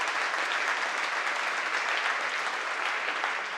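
Audience applauding council members at a 2019 State of the City address, a steady, dense wash of many hands clapping that holds evenly throughout without voices.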